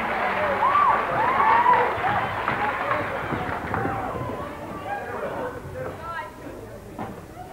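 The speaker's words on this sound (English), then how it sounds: "Give yourselves a big applause." An audience at an Electric Light Theatre stage show applauds and cheers loudly, with whistles rising over steady clapping that slowly fades.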